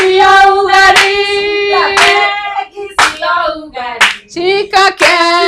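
People clap at a birthday celebration, sharp claps landing roughly once a second beneath loud group singing.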